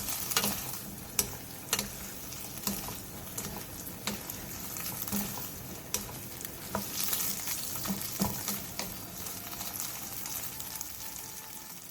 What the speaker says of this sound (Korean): 물이 바글바글 끓어오르면 약불로 줄인 뒤 한 번씩 뒤적여가며 국물을 자작하게 졸여주세요